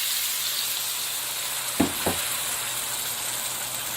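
Pork spare tips for Hawaiian Chinese-style sweet sour pork fry in soy sauce over medium-low heat, giving a steady close sizzle that flares in two short bursts as vinegar hits the pan, then settles back to an even hiss.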